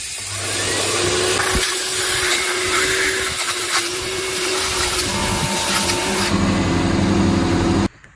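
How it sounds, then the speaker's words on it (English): Walnut media blasting of Mazda Skyactiv intake ports with a shop vacuum running: a loud steady vacuum drone with hissing blast noise on top, cutting off abruptly near the end. "And now I can turn on the vac and start blasting it."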